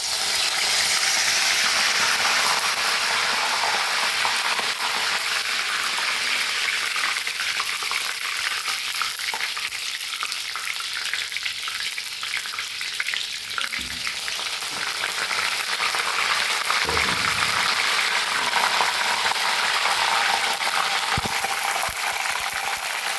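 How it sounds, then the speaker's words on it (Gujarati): Mint leaves frying in hot oil, a loud, continuous close sizzle with crackling spatter and occasional clinks and scrapes of stirring, no voices. "હવે આપણે સૌથી પ્રથમ ફુદીનો ફ્રાય કરી લઈશું।"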